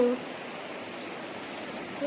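Rain pours steadily on an outdoor surface near a house gate, a dense even patter of drops with no breaks and no talk over it.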